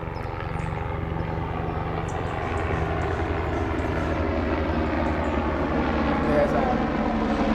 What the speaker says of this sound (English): medical helicopter flying to the hospital. We have a hospital right here, and it's just took off and it's flying away, so it's pretty noisy.